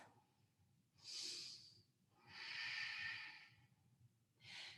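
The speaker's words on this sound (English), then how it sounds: "Full big deep breath." Slow, deep yoga breaths drawn in and let out, three airy breathy swells with quiet pauses between, close and soft with no talking.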